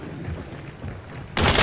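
A single loud gunshot from the Hunt Showdown video game at close range, a sudden broadband blast that cuts in near the end after a stretch of quiet low rumble and game ambience.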